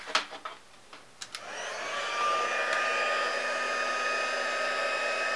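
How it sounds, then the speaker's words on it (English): A heat gun blows hot air over embossing powder on a split negative card, starting after a few soft clicks and taps and then running as a steady, fairly loud whooshing hum to the end. "And then you're going to take your heat gun."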